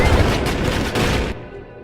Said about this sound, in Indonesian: para polisi langsung duluan menembak Jojo sampai membuatnya tewas seketika